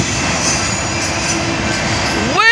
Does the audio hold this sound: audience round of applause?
no